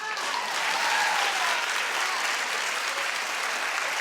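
A studio audience at a daytime talk show bursts into sustained applause, a dense, even wash of clapping that holds steady and loud across the whole stretch with no voices on top.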